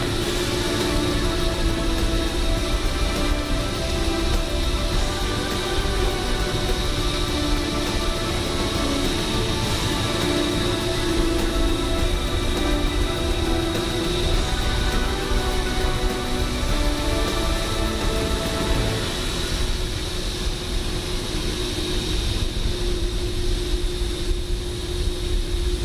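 Jet airliner engines spooling up for takeoff in Microsoft Flight Simulator, a steady loud roar with a sustained whine that holds throughout, fairly constant and close, with no talk over it.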